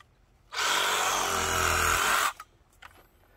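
A Ryobi power tool whirs loudly at a steady pitch for about two seconds at close range, starting and stopping abruptly, with quiet room sound on either side.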